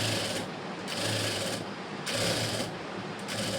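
A sewing machine stitching a blouse runs in three bursts of steady whirring, close and loud, separated by brief pauses.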